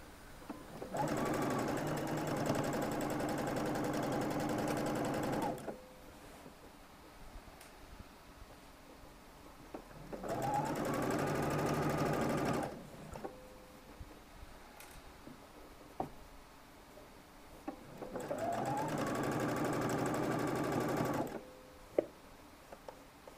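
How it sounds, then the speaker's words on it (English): A sewing machine stitches a seam in shirt fabric in three steady whirring bursts of about five seconds each, with quiet pauses between them and light handling clicks in the gaps. "Keep your stitch line as even as possible, using your sewing foot as a guide."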